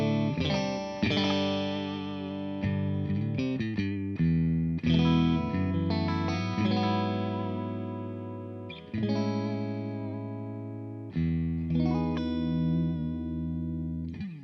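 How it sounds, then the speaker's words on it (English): A Fender Ultra Stratocaster electric guitar plays bright, ringing chords and single notes, with the neck pickup added for a full three-pickup tone, shaped by effects and sustaining close and loud throughout. "it'll actually bring in the neck pickup for that position as well, giving you quite a mighty sort of 3 pickup sound"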